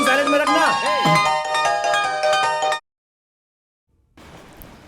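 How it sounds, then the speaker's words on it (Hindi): A mobile phone ringtone plays loudly as a melodic, tuneful tone in a Hindi-dubbed South Indian action movie scene, lasting about three seconds before cutting off to silence, followed by a soft noisy hiss. "सर का फोन बज रहा है"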